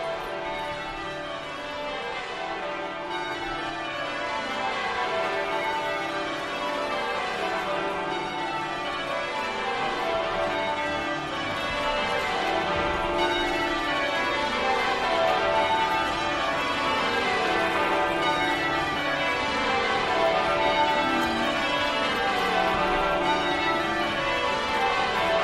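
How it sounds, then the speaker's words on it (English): Westminster Abbey's church bells ring out continuously for the coronation of King Charles III, overlapping peals cascading in steady descending rounds, full and resonant with no voices. "So with the Abbey bells sounding the news of his coronation throughout the United Kingdom and beyond, Charles's journey as crowned sovereign is a"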